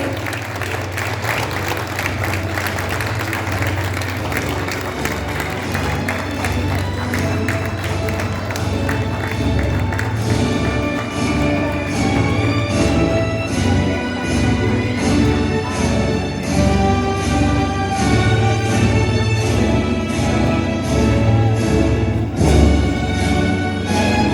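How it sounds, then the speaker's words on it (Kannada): Sustained applause from an annual-day audience honoring grade 5 graduates of a Cupertino school branch, a dense continuous wash of clapping that holds steady and swells slightly toward the end. "A big applause to them. ನಿಮ್ಮ ಚಪ್ಪಾಳೆ ಅವ್ರಿಗೆ ಹುರಿದುಂಬಿಸುತ್ತೆ."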